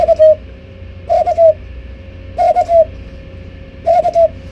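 A handheld bird caller mimicking a brown dove's cooing, used as a lure: four separate short hooting coo phrases, each a couple of quick pulses, spaced about a second apart, close and clear over a low steady background hum.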